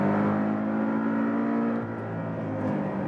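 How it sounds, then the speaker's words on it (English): A 2018 Porsche 718 GTS, Boxster or Cayman, runs in sport mode with its 7-speed gearbox shifting; a loud, steady engine drone holds throughout, with a brief dip in level near the middle. "Of course, when in a sport mode, you hear the shifting transitions."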